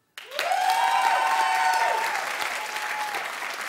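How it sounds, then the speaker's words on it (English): A television talk-show studio audience breaks into sudden, loud applause voting in a poll, with dense clapping and a cheering voice that holds steady before easing slightly. "Look, clap if you would rather Kim."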